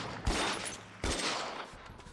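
Two loud gunshots in the crime game L.A. Noire, each a sharp crack followed by a ringing, echoing tail, about three-quarters of a second apart.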